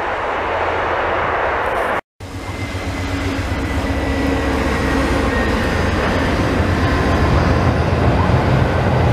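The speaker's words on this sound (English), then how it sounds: "I heard a train coming." A VIA Rail train rumbles past in Montreal in winter, a loud, broad roar that builds and stays heavy, with a brief cut near the start.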